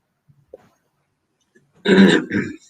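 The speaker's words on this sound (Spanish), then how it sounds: "estoy con esta carraspera" After near silence with a couple of tiny clicks, a person clears their throat loudly in two short rasping bursts, close up.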